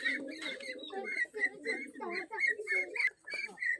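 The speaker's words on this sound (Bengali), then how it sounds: "আমরা কবুতরগুলো দেখানোর চেষ্টা করতেছি" Imported bloodline pigeons in a loft coo repeatedly in close, overlapping rolling calls, loud and continuous with no talk.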